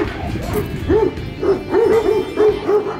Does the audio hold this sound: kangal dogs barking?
yes